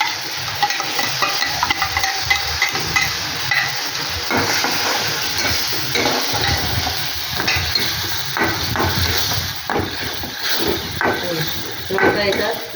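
Chili paste and garlic stirred in a hot pan for homemade Schezwan sauce, a continuous sizzle and fry with scraping spoon strokes against the pan, under occasional talk.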